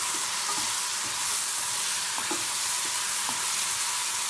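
Tomatoes are stirred into lightly browned onions frying in a pan, giving a steady close sizzle with a few soft scraping knocks of a spoon.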